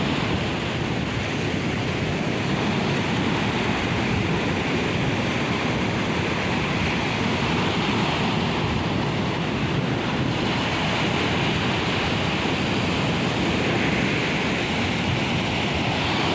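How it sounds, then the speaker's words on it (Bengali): Ocean surf rolling onto a beach, a loud continuous broadband roar of breaking waves mixed with wind buffeting the microphone, steady throughout with no voices. "দূরের থেকে ঢেউগুলো আসছে, ওয়াও।"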